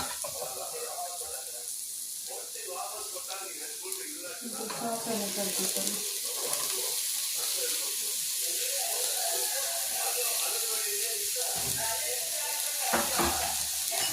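Capsicum frying in a pan in a home kitchen makes a continuous sizzle with stirring, and it grows louder partway through while people talk over it.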